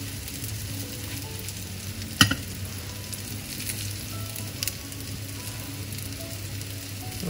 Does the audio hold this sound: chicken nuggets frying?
yes